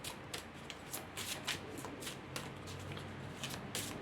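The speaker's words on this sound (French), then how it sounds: "je vais battre mes cartes" A deck of cards shuffled by hand in repeated quick riffling bursts, close and crisp, with no talking.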